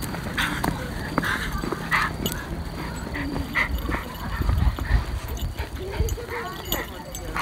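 A toy poodle out on a walk, with dogs barking and yipping intermittently nearby, mixed with footsteps, outdoor bustle and people chatting throughout.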